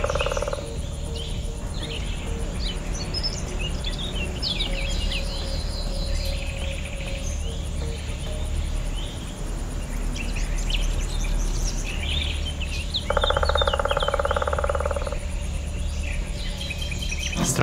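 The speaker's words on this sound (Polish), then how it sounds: "Faktycznie słychać dużo tych ptaków," Crickets chirp steadily and birds call in the countryside ambience of the driving game Japanese Drift Master, a soft continuous outdoor chorus with scattered bird chirps and a louder trill near the end.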